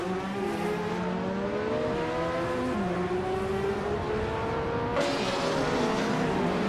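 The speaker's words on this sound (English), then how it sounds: "We're about to watch some AI cars race" AI-driven race cars, including a 1982 Rondo M382, roar through a video game race with steady engine drone and rising pitch as several cars pass closely, loud and continuous with no talk.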